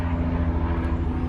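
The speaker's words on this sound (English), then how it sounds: "excuse me, there's a helicopter above me." A helicopter passing overhead outdoors gives a steady, loud, low rotor and engine drone that fills the whole short stretch with no break.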